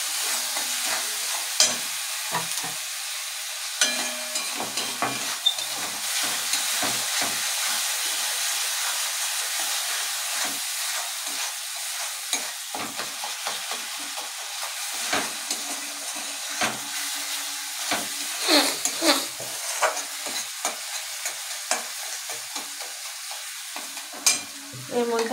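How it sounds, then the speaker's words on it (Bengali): Fried potato and cauliflower being stirred in a pan with a little salted liquid, a continuous sizzle broken by repeated scraping and clinking strokes of the spoon, close and fairly loud, with no voices. "মধ্যে আলু ফুলকপিটা মিশিয়ে নিচ্ছি।"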